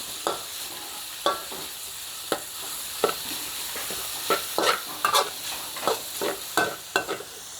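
Sun-dried pork with ginger is stir-fried in a hot pan, with steady sizzling broken by repeated scraping and clattering strokes of a spatula at an irregular rhythm, close and fairly loud.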